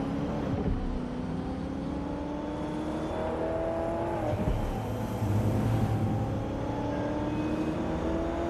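A car in Watch Dogs Legion cruises on auto drive, its engine a steady, close hum with shifting pitch that runs continuously, never fading.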